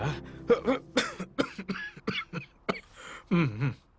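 A person coughs repeatedly in a rough, hacking fit, bursts coming close together and near, with strained throaty sounds between them.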